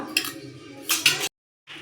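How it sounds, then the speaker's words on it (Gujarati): A sabudana and boiled potato vada mixture is stirred in a bowl with a spoon, giving two short bursts of scraping and clinking with a brief silence between them. "હવે આપણે આને મિક્સ કરી લેશું।"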